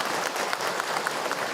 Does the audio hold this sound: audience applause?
yes